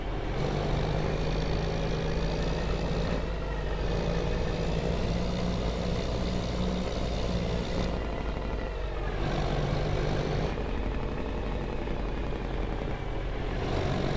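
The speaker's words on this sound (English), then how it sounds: "This truck sounds good, man." A steady, loud truck engine drone in Farming Simulator 25 rumbles continuously, with a low idling hum and slight shifts in pitch as the revs rise and fall.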